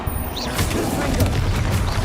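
Fiery blasting-spell explosion in the game Hogwarts Legacy, a loud booming burst with crackling debris over a dense backdrop of combat effects.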